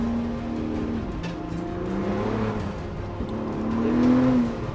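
Ford Bronco Raptor engine revving with rising and falling whirring turbo spool, steady and close, on gravel, with no talk over it.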